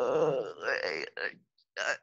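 A person yawning close into a microphone: a long, drawn-out groaning breath followed by two shorter voiced sighs, loud and close up.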